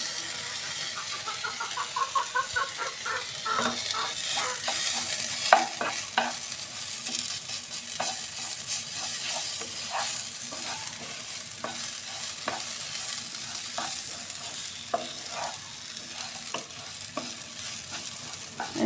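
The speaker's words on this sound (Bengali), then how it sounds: "এখন একটু ভালোভাবে ভেজে নিয়ে তারপর আমি পানি দিয়ে দেবো এর মধ্যে" Ginger and garlic paste fry in a pan with a steady hiss, and repeated spatula strokes stir and scrape in an uneven rhythm throughout, close and fairly loud.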